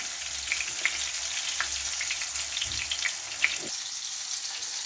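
A fish fries in a pan on its second side, a soft continuous sizzle with scattered small pops and crackles, fairly quiet and close, no one speaking.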